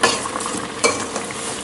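A spoon stirs a boiling Thai catfish curry with winter melon in a pot, with a steady bubbling sizzle and soft scraping strokes close by.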